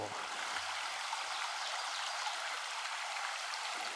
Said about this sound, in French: c'est un très beau petit ruisseau et il a l'avantage quand même de couler à un paquet d'endroits